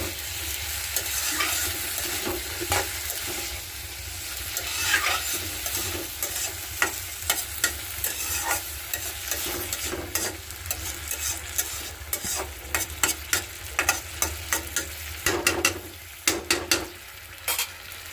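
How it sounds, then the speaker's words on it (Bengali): Eggs and potatoes fry in a pan while being stirred. A steady, close sizzle runs throughout, and sharp scraping stir strokes grow more frequent toward the end. "দেখেন ডিম আর আলু দিয়ে দিতে হালকা একটু ভাজি করে নেব"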